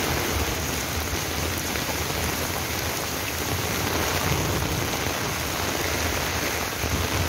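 A summer rain shower pours down in a dense, even hiss of drops striking surfaces, steady and loud throughout with faint low rumbling, and no voices.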